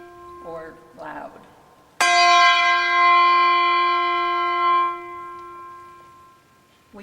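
A handbell struck loudly by a bell choir director rings out with one bright metallic strike and a long, sustained shimmering decay that fades over about three seconds, following brief quiet talk.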